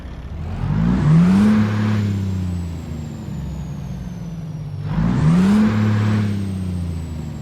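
A Kenworth W900 Legacy Edition truck in American Truck Simulator, with deep engine rumble swelling twice as if revving, and a thin whine sweeping above it.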